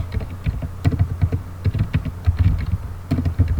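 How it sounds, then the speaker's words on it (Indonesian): Rapid, uneven clatter of keys on a computer keyboard as network switch commands are typed in Packet Tracer, with close, crisp keystrokes arriving in quick bursts and short pauses, no voices. "Kita enter lagi, lalu kita ketikkan switch"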